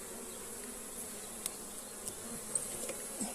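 Honeybees buzzing around an opened hive during a queenless split, with brood frames lifted out; a soft, steady hum that stays fairly faint, broken by a few brief clicks and knocks of frames being handled.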